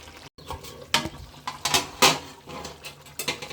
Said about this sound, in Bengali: এই কচুটা দিয়ে ভালো করে কষিয়ে নেব